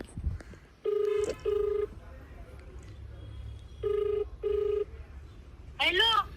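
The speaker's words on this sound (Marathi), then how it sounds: "दिदीलाच फोन लावले." A phone call's ringback tone purrs in regular double pulses, two pairs a few seconds apart, steady and moderately loud over a low background hum, with a brief voice and rising chirps at the end.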